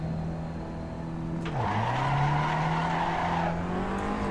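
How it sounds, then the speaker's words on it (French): Car tyres spin and squeal in a racing video game. The engine holds a steady drone, dips briefly, then climbs back while the tyres slip and whine continuously. "Encore un peu de patinage."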